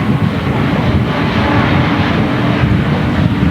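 Grasstrack racing motorcycles roar away together from the start line of a 1991 race, a dense, steady engine drone that holds loud and continuous throughout.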